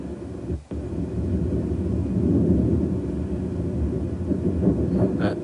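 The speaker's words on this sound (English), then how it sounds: "This has been compressed in time to 9 seconds, so we're actually able to hear the infrasound." Infrasound from a space shuttle breakup, time-compressed into the audible range, comes through as a continuous deep rumble like distant thunder, with one hollow thud early on.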